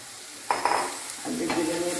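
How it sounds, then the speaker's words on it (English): A spoon gives a gentle mix to microgreens added to fried onion in a hot pan. Two short bursts of scraping and stirring sit over a steady close sizzle. "I'll be giving it a gentle mix"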